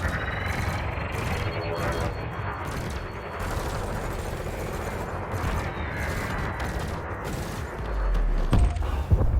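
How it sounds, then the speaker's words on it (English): Rapid multi-cannon bursts fire in the space combat game Elite Dangerous, a dense stuttering rattle of shots over a low engine rumble, closing with a heavier boom; no one speaks. "You may have noticed that multi-cannons are effective against unshielded targets."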